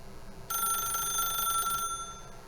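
In the video game The Stanley Parable, a telephone rings once with a bright, trilling electronic bell that lasts over a second, then stops, over a faint steady room hum.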